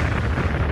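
Volcanic gases expanding and bursting make a short, deep, rumbling explosion that sounds close and heavy, a single dense boom that fills the moment with no speech.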